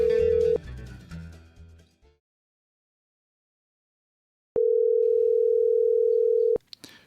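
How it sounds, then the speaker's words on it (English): Telephone tones while calling someone, a loud steady tone cuts off abruptly, then after a stretch of silence a second long steady tone sounds before stopping. "Bubba, I'm dialing him up right now."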